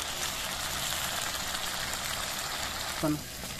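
Pepper chicken dry-roasting uncovered in a pan gives a steady, even sizzle throughout, with a short clink of a utensil near the end.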